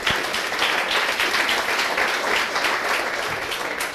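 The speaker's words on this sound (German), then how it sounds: "Ist, glaube ich, ein Applaus wert." An audience at the opening of an enterprise software conference applauds steadily and evenly throughout, a sustained wash of many hands clapping at a moderate distance.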